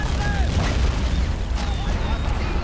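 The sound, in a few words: 45mm gun firing in video game Men of War: Assault Squad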